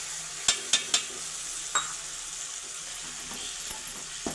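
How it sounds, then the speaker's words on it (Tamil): Onion and tomato being sautéed in a pan for a paneer cauliflower gravy, with a soft steady sizzle and a few sharp clinks of a spoon stirring against the pan, close and without talk. "இப்போ போட்டு வதக்குங்க, நல்லா வதங்கட்டும்."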